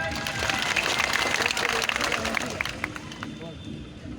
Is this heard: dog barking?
no